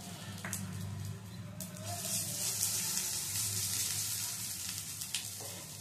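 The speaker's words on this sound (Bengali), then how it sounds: "দিয়ে দেব সামান্য জল, না হলে আদাটা পুড়ে যাবে।" A little water goes into a hot pan of grated ginger frying with tempered spices for a vegetarian shukto dal, giving a steady, close hiss and sizzle throughout with faint clinks of a utensil.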